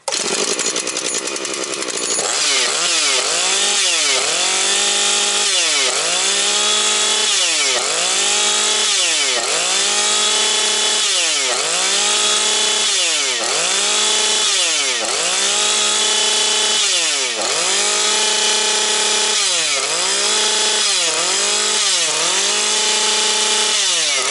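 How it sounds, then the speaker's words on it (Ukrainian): A cold Husqvarna 130 gasoline chainsaw runs loud and close, its engine rising and falling in a regular rhythm of about a dozen revving surges over a continuous drone. "на холодно бензопила завжди максималку буде мати холодну і так чути, як вона підтроює."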